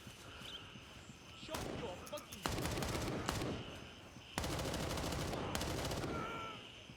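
Gunfire in the military shooter Gray Zone Warfare: two sustained bursts of rapid automatic shots, loud and close, separated by scattered single reports. Faint talk sits underneath.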